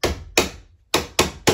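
Hammer tapping a screwdriver to drive the pin out of a door hinge: five sharp metallic knocks, two close together, then a pause and three more at a steady pace, loud and close with no talk.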